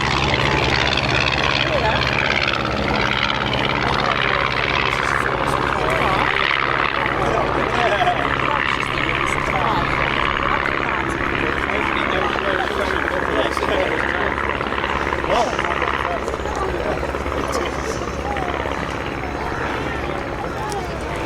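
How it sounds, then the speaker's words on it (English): First World War Albatross D5A and Fokker DR1 triplane propeller fighters take off at an airshow at Duxford, their engines droning steadily and loudly throughout, with voices faintly underneath. "The enemy is taking off to join them, and it's done so initially in the form of the Albatross D5A, and then the Fokker DR1 triplane."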